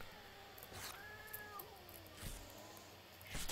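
Cat meowing in the video game Jazzpunk during a bonus stage: a couple of drawn-out, rising and falling meows with a sharp noisy burst near the start and end, set against a steady game background.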